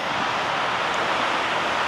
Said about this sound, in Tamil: அருவி தண்ணி மாதிரி சொக்கு சொக்கு சொக்குன்னு தண்ணி சத்தம் இருக்கு